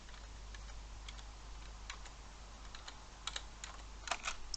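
A Commodore 64 keyboard typed on in short irregular bursts of crisp key clicks, growing denser and louder toward the end, close by over a low steady hum.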